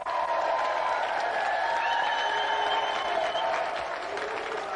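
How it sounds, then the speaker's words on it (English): A studio audience at a television game show claps in a steady, dense burst of applause that holds evenly throughout, with a few faint cheers mixed in. "Round of applause for Jamie."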